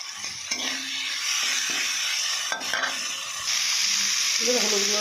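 Ground spice paste hits a hot pan and sizzles loudly and continuously up close, with stirring scrapes, and the frying hiss grows stronger toward the end.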